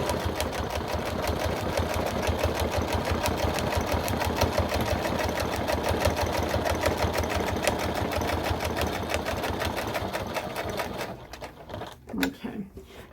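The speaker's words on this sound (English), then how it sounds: "It's going to sound like the machine is doing double work because it's putting extra stitches there." A sewing machine stitching a clutch purse runs fast with a dense, steady rhythm of rapid needle strokes while putting in extra stitches. It stays loud and close for about eleven seconds, then stops with a few clunks.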